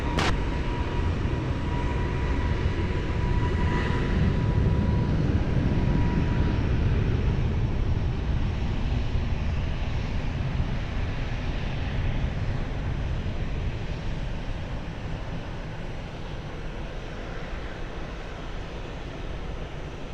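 An airliner taking off at Lisbon Airport, a loud, sustained jet engine roar with broadband rumble that stays strong throughout and eases slightly toward the end.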